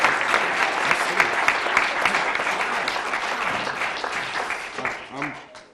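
An audience at a PechaKucha presentation evening in Cleveland gives a warm round of applause, dense and steady before thinning out, with a voice briefly audible near the end.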